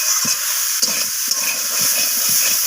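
Bottle gourd greens sautéed with ginger paste and salt in a pan give a steady close sizzle and hiss, with a few soft stirring scrapes and no talking.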